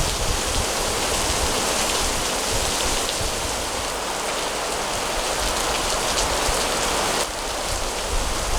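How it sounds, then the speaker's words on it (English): Steady, heavy rain pours down continuously on the Japanese coast, a dense hiss of drops drumming on surfaces with no voices. "the rain is coming down pretty seriously now"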